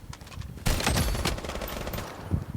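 Rapid gunfire in a shooting video game, loud bursts of automatic shots starting abruptly and rattling on in dense volleys, with a few scattered shots before and after.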